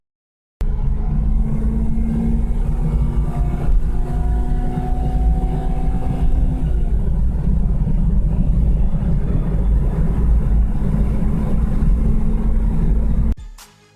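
A 2004 Acura RSX Type S engine accelerates hard with VTEC engaging, heard as a loud, close, continuous drone with a rising tone that holds steady for over ten seconds before stopping.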